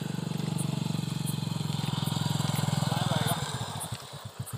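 A motorcycle arrives at night, its engine chugging steadily and loudly up close. The engine then slows into separate putters as it idles down, and a voice talks faintly under it.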